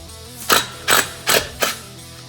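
An impact wrench spins off a 10 mm bolt on the secondary clutch of a 2021 Polaris RZR Turbo XP, four short, sharp bursts of rattling hammering, evenly spaced and close up, with no talking.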